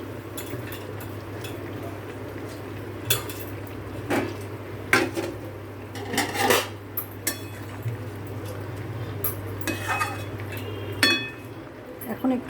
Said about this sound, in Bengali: এইবার এখন এই মাছগুলো এর মধ্যে দিয়ে দেব।